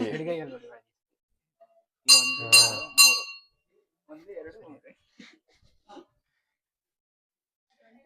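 Three bright, ringing strikes of a temple bell in quick succession, with people talking before and murmuring after.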